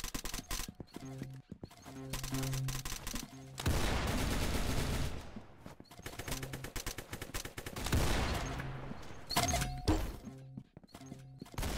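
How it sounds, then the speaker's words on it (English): Bursts of rapid gunfire from a Roblox shooting game, loud and close, coming in dense volleys separated by brief lulls, with scattered single shots between them. "Very good shooting."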